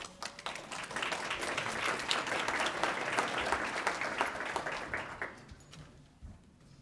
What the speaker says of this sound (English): Let's keep the applause going for William Whitfield.